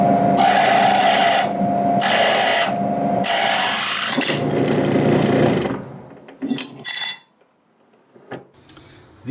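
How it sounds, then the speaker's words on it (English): A power drill fitted with interchangeable hole saws cuts loudly in three or four harsh, grinding bursts, each separated by a brief pause. A longer cutting pass follows, then the drill slows and stops, leaving a few light knocks and near-silence. "These here interchangeable hole saws."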